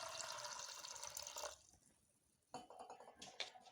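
Water poured into a pressure cooker holding green peas soaked for several hours, a steady splashing stream for about a second and a half, then a pause, then more pouring and trickling resumes nearby.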